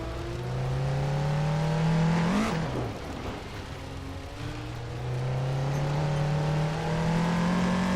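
Racing cars roar close by with engines rising and falling in pitch as they overtake one another, one swelling pass near the middle before a steady high drone resumes, loud and continuous with no voices.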